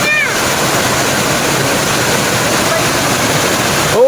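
A mountain waterfall roars steadily and loudly throughout, a dense broadband rush of falling water with no break, and brief faint tonal sounds appear at the start and end.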